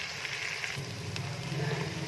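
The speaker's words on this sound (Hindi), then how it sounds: "अब हम इसमें डालेंगे लहसुन और अदरक का पेस्ट और इसको तकरीबन 2 से 3 मिनट के लिए फ्राई करेंगे" Garlic and ginger paste frying over low heat in a pan for chana dal fry, giving a steady, soft sizzle with faint crackles, close by and without talk.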